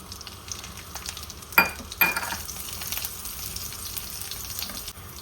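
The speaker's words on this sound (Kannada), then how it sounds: "ಸ್ವಲ್ಪ ಎಣ್ಣೆ ಬಿಸಿ ಆಗ್ತಿದ್ದಾಗೆ ಜೀರಿಗೆನ ಹಾಕ್ತಾ ಇದ್ದೀನಿ." Cumin seeds and crushed garlic cloves hit hot oil in a pan for a mushroom curry, bursting into a sharp sizzle that crackles loudly around the drop, then settles into a steady close frying hiss with no talking.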